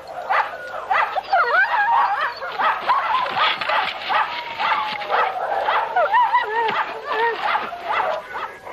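Sled dogs of a polar expedition team yelping, barking and whimpering together in a continuous, loud, excited chorus of overlapping calls.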